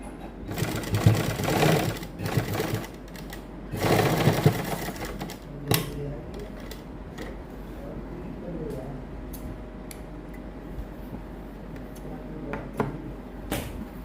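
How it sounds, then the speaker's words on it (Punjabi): Sewing machine stitching a V-neck strip onto a garment neckline, with loud rapid rattling bursts close by during the first few seconds, followed by quieter intermittent clicks and handling noises with a faint voice underneath. "ਇਸ ਤਰੀਕੇ ਨਾਲ ਸੈੱਟ ਕਰਕੇ ਤੇ ਇੱਥੇ ਆਪਾਂ ਸਲਾਈ ਲਾ ਦਾਂਗੇ"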